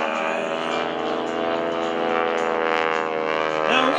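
PT-17 Stearman biplane engine roaring steadily through a barrel roll at an airshow, a loud sustained droning tone heard from a distance that shifts slightly in pitch near the end.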